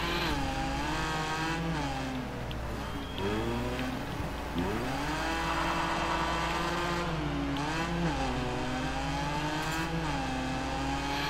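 A Porsche rallycross car in the video game Gravel races with a loud, continuous engine roar, its pitch climbing and dropping through repeated gear changes and revs, heard alone without talk.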